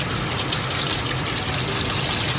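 Cold tap water gushes steadily over boiled pasta in a drainer, a loud, continuous rushing splash with no pauses.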